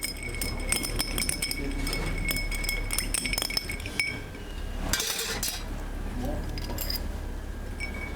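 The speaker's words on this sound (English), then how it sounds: "Little stir to mix it up all the ingredients." Bar spoon stirring a Bloody Mary of tomato juice and ingredients in a glass, giving repeated close clinks and tinkles against the glass over steady background chatter and room noise.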